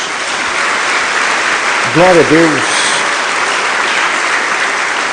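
A church congregation claps steadily, a dense, loud applause that fills the whole clip while a voice briefly speaks over it.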